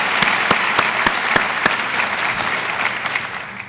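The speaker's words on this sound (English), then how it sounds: "Let's give her another round of applause." Audience applause at a university State of the University address, a dense wash of clapping with a few sharp louder claps standing out early, then settling and thinning toward the end.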